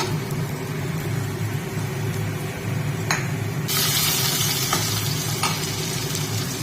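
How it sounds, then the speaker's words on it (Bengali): Onions frying in a small amount of oil in a pan, a steady loud close sizzle with a few sharp utensil taps and a sudden hissing surge partway through, with no talking. "এখানে পেঁয়াজটা একটুখানি ভেজে নিচ্ছি"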